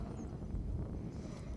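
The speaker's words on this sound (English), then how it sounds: "Wind starts to pick up once again." Wind blowing across an outdoor field during a girls' high school soccer match, a steady low rumble buffeting the microphone for the whole stretch with no voices.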